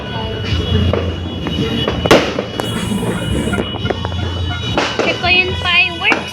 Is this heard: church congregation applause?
no